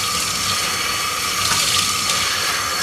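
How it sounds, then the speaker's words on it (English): A Bissell PowerGlide Pet vacuum filter rinsed under a running tap of lukewarm water, a loud steady rush of water splashing continuously into a sink with no voices. "Make sure to thoroughly rinse the filter."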